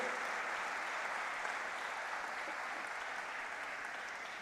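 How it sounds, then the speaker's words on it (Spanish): A church congregation applauds during a Spanish-language sermon, a steady, dense wash of many hands clapping that holds at an even, moderate level for several seconds. "Dale un aplauso."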